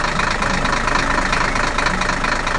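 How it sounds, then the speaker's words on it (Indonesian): A blue truck with big black wheels drives through a green forest, its engine running in a steady, loud, continuous rumble with no breaks. "Truk biru dengan roda hitam yang besar sedang berjalan melalui hutan yang hijau."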